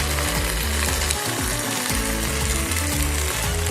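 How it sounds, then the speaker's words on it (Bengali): Spices fry with potatoes and cauliflower for a Bengali cauliflower curry, making a loud, continuous sizzle with rhythmic clattering and scraping from stirring, close and dense throughout. "এইভাবে ভালো করে আলু এবং ফুলকপির সাথে মশলাটাকে কষে নিতে হবে।"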